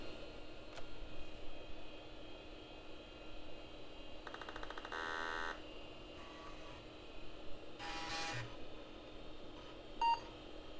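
A Leading Edge WinPro 486 computer boots, its fan and drives humming steadily while clicks, chattering drive seeks and bursts of electronic buzzing pass over it, ending in a short, clear POST beep.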